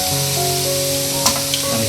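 Whole spices and cumin hiss in hot mustard oil in a kadhai for chicken curry, giving a loud, steady sizzle with a brief crackling flare partway through.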